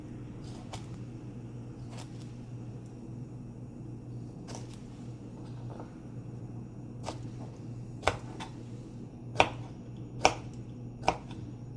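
A knife slices through food on a cutting board while fish salad is prepared, giving scattered sharp ticks that become louder, distinct cuts toward the end over a low steady hum.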